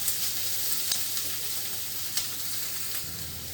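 Corned meat and chicken frying in a pan, a close, steady sizzle with soft crackles and occasional pops, no voices.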